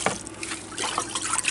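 Water runs and trickles through a basket being rinsed for tacos, a steady close splashing and dribbling with small drips throughout, no voices.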